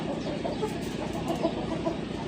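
A rooster in a village setting clucks in a steady run of short, low calls, close and fairly loud over a constant background hum.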